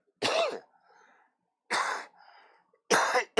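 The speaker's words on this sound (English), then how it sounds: "I'm coughing like crazy." Three separate bursts of harsh coughing, close and loud, with brief quiet gaps and faint wheezy breaths between them.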